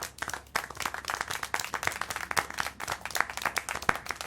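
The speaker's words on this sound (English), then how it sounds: "How can you clap?" Clapping in the video game Syberia: The World Before, a steady run of sharp, fairly close hand claps with uneven rhythm, moderately loud and with no talking over it.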